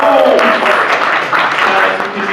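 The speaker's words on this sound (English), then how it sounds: "Give it up for yourselves. Idiot Box. Round of applause." An audience at a comedy show applauds and cheers in a club, with loud, continuous clapping and crowd noise that sounds mixed with voices.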